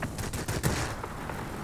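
The I-153P's 20mm cannons fire in World of Warplanes, a rapid, punchy string of close shots in a short continuous burst.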